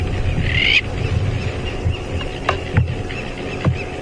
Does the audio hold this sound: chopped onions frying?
no